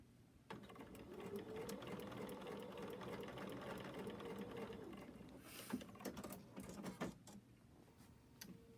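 A sewing machine stitches fabric in a steady, continuous whir for several seconds, then slows and stops, followed by a few light mechanical clicks.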